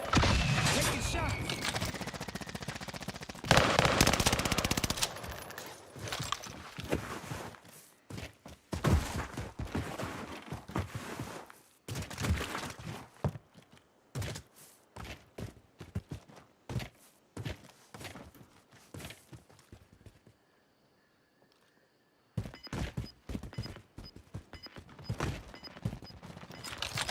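Gunfire in Warzone Pacific on the Caldera map, rapid bursts of shots and thuds with scattered single cracks, loud and near, broken by a short quiet gap, with voices talking underneath.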